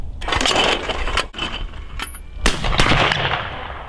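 A shotgun fires at a going-away clay target outdoors, with sharp, loud close reports and rumbling echoes across roughly four seconds.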